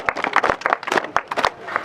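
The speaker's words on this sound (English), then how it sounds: "Clap for him." A primary class claps for a classmate on a vehicle repair excursion: a short burst of scattered, uneven hand claps close by, mixed with a few voices.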